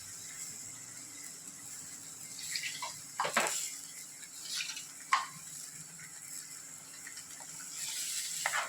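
Ground masala water from a mixie grinder poured into a pan to boil for a paneer masala curry: a steady watery pour and faint sizzle, with a few louder splashes and clinks at a moderate distance.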